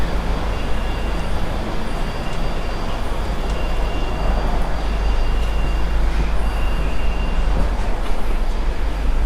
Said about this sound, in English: Elevated subway line.